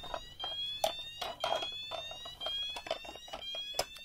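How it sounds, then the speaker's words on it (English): A T2 Solutions red sounder beacon alarm sounds a rapid run of repeating electronic beeps with steady rising tones, fairly quiet and heard alone without talk. "showing you the tones on my T2 Solution Sounder Beacon"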